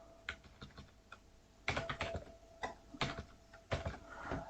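Someone types on a computer keyboard with short bursts of clicky keystrokes separated by brief pauses, close-miked and clear, with no voices.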